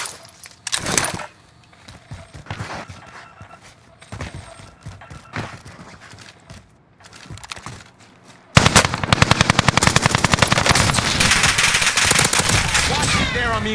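Call of Duty: Modern Warfare gunfight: sparse scattered shots and impacts, then from about the middle a loud, continuous automatic-weapon burst with rapid rattling shots that carries to the end.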